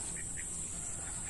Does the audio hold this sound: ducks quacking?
yes